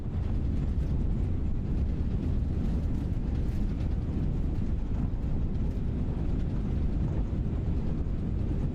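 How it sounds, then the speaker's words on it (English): A340-300 thrust reversers roaring on landing in MSFS 2024, a loud, steady, dense rumble filling the whole stretch without letup. "Reverse engaged."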